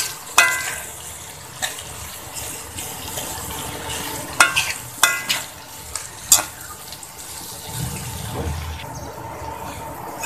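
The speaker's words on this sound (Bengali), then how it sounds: "এখন এই পেঁয়াজটা ভাজি হতে হতে" Onion with chopped chillies, coriander and cumin powder frying in a pan makes a continuous sizzle, broken by several sharp spatula knocks and clatters against the pan, with a brief watery splash near the end.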